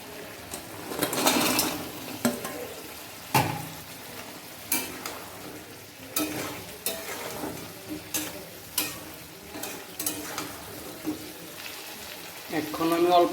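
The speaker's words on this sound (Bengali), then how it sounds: "মশলাটার মধ্যে এখন আমি চিকেনটা দিয়ে দেবো।" Chicken pieces added to a pan of frying masala for gravy chilli chicken set off a sizzle, with repeated scraping stirs every second or so and a softer hiss between them, close by.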